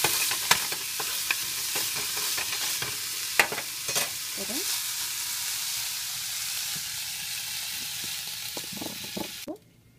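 Paneer lightly frying in a pan sizzles steadily while a utensil scrapes and stirs with a series of sharp clicks and taps, then the sizzle cuts off abruptly near the end.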